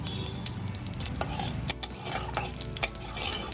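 Black mustard seeds and radhuni spluttering in hot oil for a tempering, with a soft steady sizzle and a few sharp pops and utensil clinks, close and fairly quiet, no talking.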